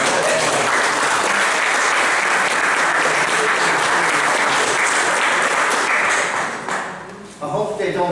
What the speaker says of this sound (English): I think Liam and Michael deserves a real round of applause.